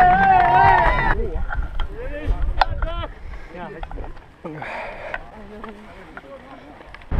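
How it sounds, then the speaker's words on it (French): Strong desert wind gusts during a long stage of the Marathon des Sables, a steady rushing roar buffeting the microphone throughout, loudest at the start, with a voice talking over it. "comme vous pouvez l'entendre, il y a un vent mais juste de ouf"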